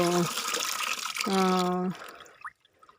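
Water is poured from measuring cans into a container to mix a nine-grain liquid fertilizer for rose plants, a brief splashing pour under a person talking.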